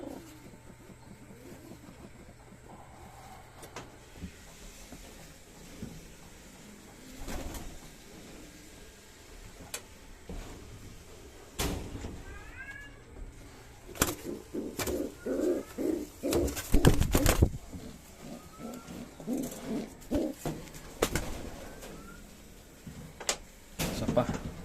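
Racing pigeons coo softly in a loft while hens are handled for release training, with clattering knocks and sliding door or cage sounds breaking in and brief voices nearby.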